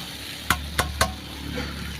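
A spoon stirs chicken curry with fried potatoes in a pan, giving three sharp scraping clinks about a quarter second apart over a faint, steady sizzle.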